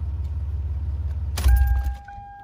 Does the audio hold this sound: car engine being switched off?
yes